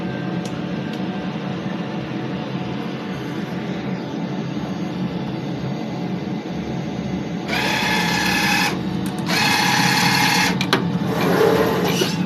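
A DTF printer runs a head-cleaning cycle: a steady mechanical hum and whir, then louder bursts of buzzing pump and carriage noise in the second half, close by with no talk.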